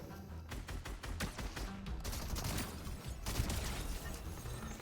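Shotguns firing in a competitive video game, a quick series of sharp blasts with mixed impacts, fairly faint overall and crowding together in bursts.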